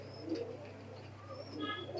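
Pakistani Teddy high flyer pigeons coo softly in a loft, a few gentle throaty calls over a low constant hum, with faint chirps and no talking.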